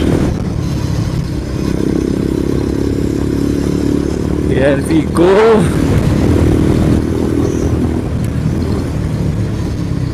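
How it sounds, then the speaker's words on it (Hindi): A motorcycle ridden at about 70 km/h roars steadily with a constant rush of engine and road noise throughout, and someone speaks briefly partway through. "70 की स्पीड में अभी बाइक चला रहा हूँ"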